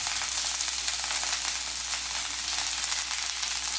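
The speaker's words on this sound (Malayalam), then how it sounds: "എണ്ണ ചൂടായിട്ട് വരുമ്പോൾ നമുക്ക് ഇതിലേക്ക് ഡ്രെയിൻ ചെയ്ത് വെച്ച ബ്രോക്കലി ഇട്ട് കൊടുക്കാം" Broccoli dropped into hot coconut oil in a pan, a steady bright sizzle and crackle of frying that stays loud and even throughout, with no voices.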